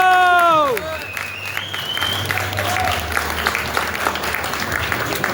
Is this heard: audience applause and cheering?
yes